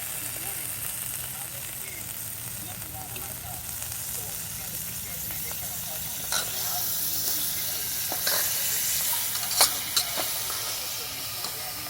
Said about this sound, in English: Put some bacon grease in here.